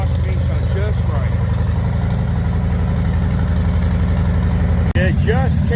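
A deep, steady Harley-Davidson motorcycle exhaust with a 117 engine idles loudly and close throughout, its low rumble continuous, with faint voice-like tones drifting over it.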